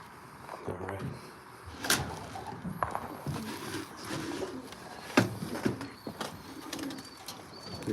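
Pigeons cooing inside a loft, soft repeated coos close by amid scattered knocks and rustles, with occasional background voices.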